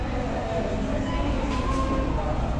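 Steady low rumble of a moving train heard from inside the carriage, a continuous dense hum and rattle with faint high squeals, loud and unbroken throughout.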